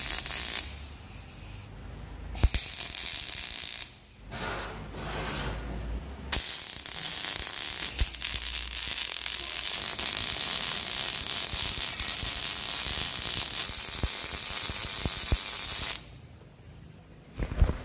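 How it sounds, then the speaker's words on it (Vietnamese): Arc welding fuses a steel plate onto the foot of a pipe-notching tool, a loud steady crackling hiss that runs in long stretches with brief pauses between passes. "Ở đây mình sẽ hàn thêm một tấm thép ở chân."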